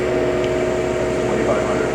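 A Southwestern Industries DPM V3 CNC vertical mill with a 40-taper spindle runs steadily, giving a loud, even mechanical hum with a thin sustained whine that stays constant throughout, and no one speaks.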